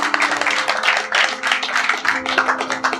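Enthusiastic applause from an audience at a poetry recital, with dense continuous clapping in uneven swells throughout, close and fairly loud.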